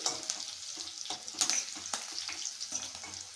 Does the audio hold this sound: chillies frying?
yes